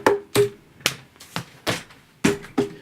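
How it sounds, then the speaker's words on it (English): A hard drive makes a rhythmic series of sharp clicking knocks, about eight distinct close hits, while a file is read off it, with no voices. "That was the sound of me getting the file off of my hard drive."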